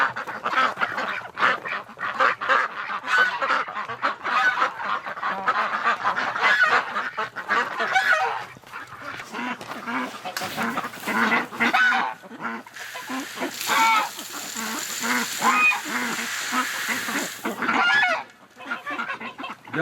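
A flock of ducks and geese crowds around at winter feeding time, with a dense, steady chorus of close honks and quacks that carries on throughout.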